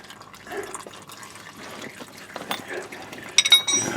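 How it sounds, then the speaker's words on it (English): Gearbox oil dripping out of a Sprinter van during an oil change, falling into a container; quiet, irregular drips and small splashes, close by, with a few sharper clinks near the end. "I'll let that drip."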